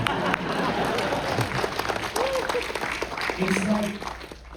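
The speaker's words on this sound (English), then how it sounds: "Can we give this person a round of applause for surviving Coventry?" A cinema audience at a Q&A with an actor breaks into a sustained round of applause, dense clapping filling the room with some voices and a speaker's talk mixed in.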